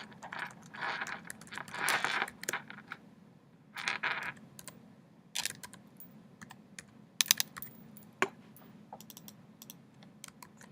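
Typing an email address on a computer keyboard, with quick bursts of close key clatter, short pauses between groups and a few sharper clicks near the end, over a low steady room hum.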